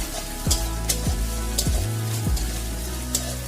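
Onion paste fries in a pan with ginger and garlic for an egg korma, giving off a steady close sizzle with a few soft clinks and scrapes of stirring over a low background hum.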